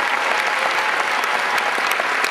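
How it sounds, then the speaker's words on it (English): A crowd at a martial arts show claps in a sustained, even round of applause, loud and close with scattered sharper claps standing out, no voices over it. "So give yourselves a round of applause"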